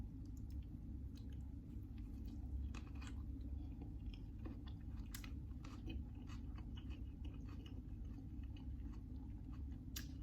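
Quiet, close chewing of a crunchy vegetable club sandwich, with soft repeated bites and crunches over a low background hum.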